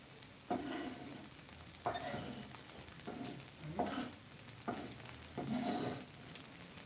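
Onion cooks in bacon grease in a pan for a thick frittata, quietly sizzling while a utensil stirs it in about five separate pushes spaced a second or so apart.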